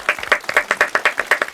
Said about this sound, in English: Give a round of applause for them coming on.